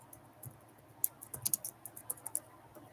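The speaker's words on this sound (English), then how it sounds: "I will like type her name." Typing on a computer keyboard, a rapid run of crisp, close key taps that speeds up into clustered bursts toward the middle, with no voices.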